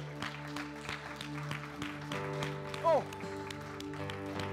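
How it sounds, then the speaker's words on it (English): A church congregation claps hands together during a Sunday service, steady rhythmic claps over sustained musical tones, with a voice speaking briefly near the end. "Can we clap our hands?"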